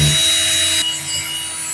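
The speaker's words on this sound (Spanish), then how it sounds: "Ahora vamos a agarrar el mismo imán que habíamos utilizado recién y lo vamos a apretar ahí en el taladro." An electric drill runs with a magnet clamped in its chuck, making a loud, steady whirring roar that drops slightly in level partway through.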